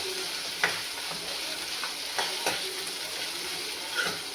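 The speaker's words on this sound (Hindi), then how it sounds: "और अब इसको मैं अच्छी तरह से भूनूंगा" Crushed garlic and ginger sizzle steadily in hot oil while being stirred for a sambar tadka, with occasional louder scrapes and clicks of the spoon against the pan, close and continuous with no talking.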